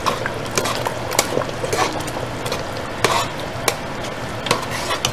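Mutton biryani masala with yogurt stirred in a pot, close scraping and sloshing strokes with sharp utensil knocks against the metal over a low sizzle, no voices.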